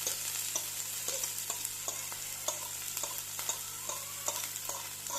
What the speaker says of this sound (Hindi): थोड़ा सा बस हमने इसको ऑयल में फ्राई करना है।